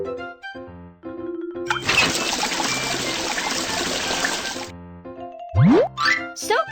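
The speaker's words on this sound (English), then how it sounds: "The faucet." In a cartoon, a faucet runs for about three seconds as a bright, hissing stream of water, framed by light musical notes before and after and followed by a quick rising whistle.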